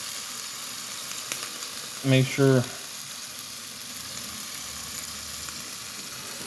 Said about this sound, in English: we're going to let that finish sizzling there.